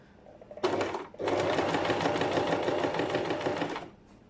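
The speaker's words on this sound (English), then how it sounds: "I'm going to continue sewing without stopping." A sewing machine runs steadily while stitching fabric binding at a 0.5 cm seam allowance. After a brief start and a pause it makes one continuous close whirring, chattering run of about three seconds, with no speech.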